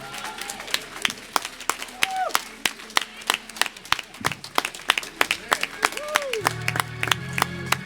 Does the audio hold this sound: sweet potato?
no